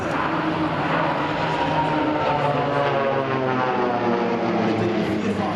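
Pilatus PC-7 aerobatic team aircraft fly overhead at an airshow with a loud, steady propeller-engine roar that sweeps slowly in pitch as they pass, unbroken throughout.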